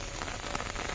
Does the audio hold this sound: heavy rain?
yes